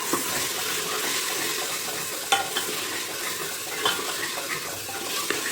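Four tomatoes being stirred in a hot pan for a goat trotters paya curry, a continuous soft sizzle and fry with occasional scraping taps of the spoon, close and fairly quiet.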